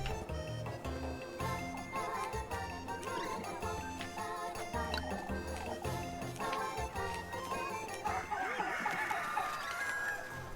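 Chicken clucking and rooster-like calls sound over dense, continuous music with jingling tones, the fowl sounds steady through the mix rather than standing alone.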